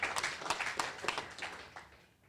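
An audience at a talk applauds in a short burst of quick, rather faint claps that thin out and fade away within a couple of seconds.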